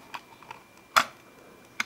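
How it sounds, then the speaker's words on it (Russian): An OXUS RS90 audio cassette case snaps open with one sharp, small click, surrounded by a few fainter plastic ticks in a quiet room. "Такой слабенький щелчок."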